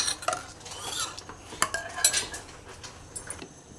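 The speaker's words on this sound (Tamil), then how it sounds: "வெல்லம் சேர்த்துட்டு நல்லா மிக்ஸ் பண்ணி விட்டுக்கோங்க" A utensil stirs jaggery into cotton seed milk in a pot, giving soft scraping and clinking of metal against the pot in short, irregular strokes, close by and moderately quiet.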